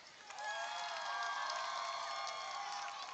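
Distant crowd at a high school football game cheering and whooping for the Warrior band, a sustained roar that swells after a moment and holds steady, with scattered shrill voices.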